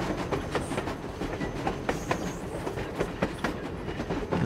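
A train in the game Industria rolls along rails from inside a carriage, with steady rumbling and a repeating clickety-clack of wheels over joints, loud and close with no talk.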